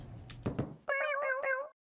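A cartoonish cat meow from the video game Sludge Life, a short tonal cry with several rising-falling harmonic pulses, preceded by a couple of soft thumps, clear and close.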